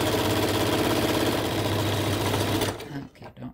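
A sewing machine runs steadily as it stitches two lengths of quilt fabric together, a fast even whirring and clatter that stops abruptly near the end, followed by a few faint handling noises.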